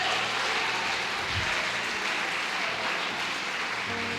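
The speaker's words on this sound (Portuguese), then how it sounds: "Você pode dar uma linda e forte salva de palmas para o Senhor Jesus?" A church congregation claps for Jesus in a sustained wash of applause that holds steady at moderate loudness throughout, slightly distant and diffuse, with no speech on top.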